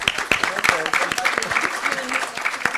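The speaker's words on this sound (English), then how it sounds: "Let's give our presenters a round of applause." Audience applause rings out at a science faculty curriculum workshop session, steady clapping from a room of people held for a few seconds, with voices faintly mixed in.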